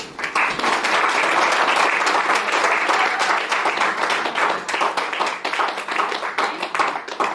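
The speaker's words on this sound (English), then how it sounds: "Have a round of applause for the Taco" An audience applauds a speaker at a talk event, dense clapping from many hands filling the room, loud and sustained before tapering slightly toward the end.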